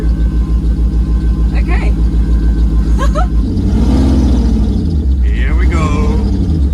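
A concept car idles with a deep throbbing engine, then pulls away in first gear as the pitch rises steadily, loud and close from inside the cabin, while someone talks briefly over it.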